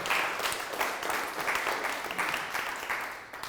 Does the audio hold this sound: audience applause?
yes